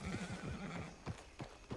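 A horse neighs and its hooves clip-clop in the video game Red Dead Redemption Online, a whinny up front followed by a few sharp hoof steps, moderately close with no talk.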